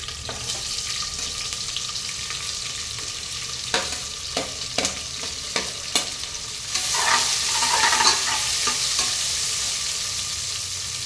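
Onions and green chilies fry in oil for homemade biryani, giving a steady close sizzle, with a few sharp spoon taps on the pan midway and then a louder surge of frying as the mixture is stirred.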